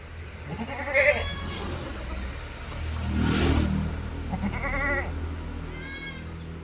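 A milk-yielding goat bleats several times nearby in short wavering calls, separated by gaps, with a vehicle passing and revving faintly in the background.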